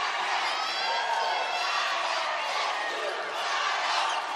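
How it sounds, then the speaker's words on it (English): A packed arena crowd roars and cheers at the 2025 SWAC Women's Basketball Tournament championship between Alcorn State and Southern, with Southern fans sensing victory; a dense, continuous, loud wall of cheering and shouting throughout. "Yeah, this crowd is amped up."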